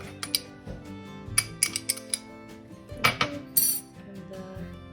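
A spoon stirs batter with vanilla in a bowl, giving irregular light clinks and taps against the bowl that grow louder in places, with soft talk underneath.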